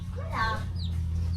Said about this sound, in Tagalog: Yeah, it's baby chicken.